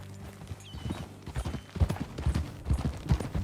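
A horse's hooves clip-clop in the Red Dead Redemption 2 video game, starting faintly and growing into a steady, heavy walking rhythm of close hoof strikes with a faint creak of tack.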